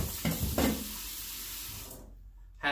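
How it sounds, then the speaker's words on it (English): Kitchen tap water running into the sink to rinse a colander, a steady close splashing rush that cuts off near the end, followed by a brief clatter. "I'm going to rinse this colander because I'm going to need it a little later today."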